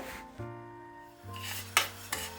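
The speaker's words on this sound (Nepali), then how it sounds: "तिललाई राम्रोसँगले पहिला भुट्नुपर्छ" Sesame seeds being dry-roasted in a pan, with scraping and rattling as a utensil stirs them over a low, steady hum.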